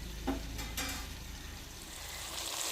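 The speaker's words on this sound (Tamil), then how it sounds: "வெங்காயம் பச்சை மிளகாலாம் தக்காளி வதங்கி வந்துருச்சு" Onion, green chili and tomato sautéing in a pan, a steady close sizzle with a few soft stirring scrapes near the start and no talk.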